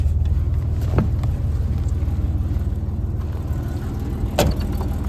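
A 1987 Ford Bronco II engine, running again after sitting for 15 years, holds a steady rumbling idle up close, with a couple of brief clicks or knocks over it.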